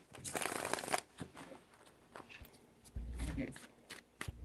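A deck of tarot cards being shuffled up close in several bursts, a dense broadband riffle from the start to about one second, then lighter flicks and taps, with a second softer burst near three seconds.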